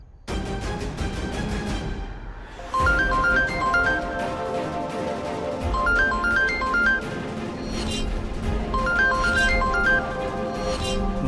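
A phone rings with a repeating electronic ringtone melody in a Hindi TV drama scene, its pattern recurring several times over a loud music bed, with no speech.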